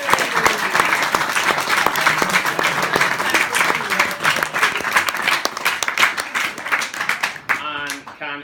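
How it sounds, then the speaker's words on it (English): Wedding guests break into sustained, dense applause for the bridesmaids during reception speeches, loud and steady for several seconds before tapering off at the end. "So can I have a round of applause for them, please?"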